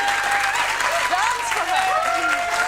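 A studio audience at a British daytime TV chat show keeps up steady, dense applause at close range, with a presenter's voice speaking over the clapping.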